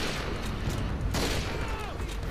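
Gunfire rattles through a Modern Warfare 2 Spec Ops co-op match: a burst of shots and a sharp bang over game noise, fairly quiet and with a player's voice faintly mixed in.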